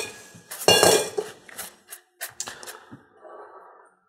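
Dishes and utensils are cleared off a kitchen counter while making cheesecake: a loud clatter of pots and cutlery, then scattered clinks and knocks of plates and metal that thin out into quiet, with no speech.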